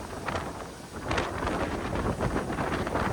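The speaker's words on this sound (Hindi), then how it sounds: "It's quite windy." Strong wind buffets the microphone at a busy London tourist attraction, a loud, continuous rushing roar that surges in gusts, with no talking.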